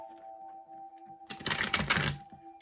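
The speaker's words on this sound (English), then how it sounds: "I'll give the first deck some shuffles as we call in the energies." A tarot card deck shuffled by hand, a short flurry of crisp riffling card noise lasting about a second, heard close over a faint steady background hum.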